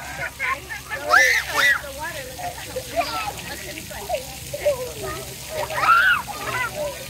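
Children play with water guns at an Australia-themed zoo play area, with splashes and sloshing water mixed with excited kids' voices and chatter throughout.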